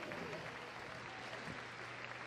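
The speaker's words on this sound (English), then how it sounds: "Let's give a big round of applause." An audience at Crufts applauds as the judges are welcomed before a freestyle heelwork to music event, a dense, continuous patter of clapping from a large hall crowd, with a faint voice underneath.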